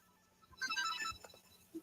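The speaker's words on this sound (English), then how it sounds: "Your phone ringing." Phone ringtone ringing, a short bright electronic melody bursting in after quiet and lasting about a second, moderately loud, followed by faint bumps and a brief thud.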